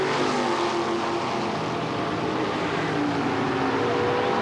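Drag race cars with big block 454 Chevy engines launching side by side at a 1989 NHRA Sportsman event, a dense, steady roar of loud engines filling the whole clip with no letup.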